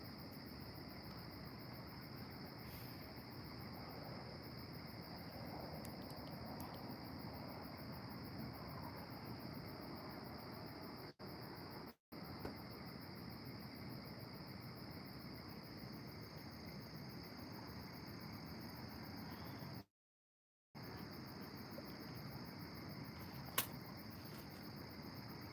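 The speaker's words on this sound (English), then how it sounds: "Oh man, the bugs are back." Insects chirp steadily through the night at a fishing spot, a constant high-pitched shrill drone that stays faint and distant, with a couple of brief dropouts and a sharp click late on.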